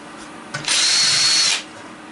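A cordless drill backs screws out of a ceiling fan being scrapped for copper: one close, loud, high whirring burst lasting under a second, with quiet before and after.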